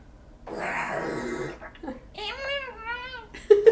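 A performer's voice imitates a cat during a comedy improv noise-making game, a short rising meow-like cry with wavering pitch followed by brief throaty bursts, fairly close and clear.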